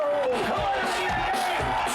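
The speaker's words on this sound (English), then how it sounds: "Big round of applause, Mr. Dave Russo!" An audience cheers and whoops for comedian Dave Russo, a dense, steady wall of crowd noise with voices mixed in throughout.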